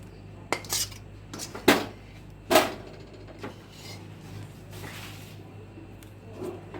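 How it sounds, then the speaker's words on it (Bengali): A spoon scrapes and knocks against a pan while a thick besan (gram flour) lentil mixture is stirred with the heat off, with a few sharp clanks early on, then softer scraping. "আমি গ্যাসটা বন্ধ করে দিয়েছি, বন্ধ করে নেড়ে নিচ্ছি ভালো করে"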